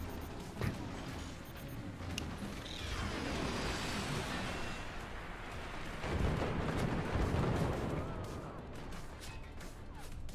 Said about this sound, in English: The flak and machine guns from Team 2, like, they've been around for a while, but it's not enough